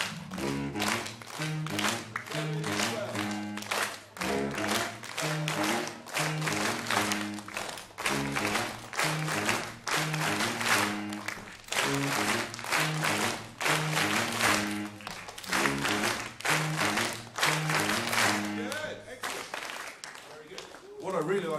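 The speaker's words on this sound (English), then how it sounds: "you were automatically clapping on beats 2 and 4" Students at a school jazz workshop clap in rhythm on beats two and four, sharp regular claps repeating steadily through the whole stretch alongside pitched music and voices.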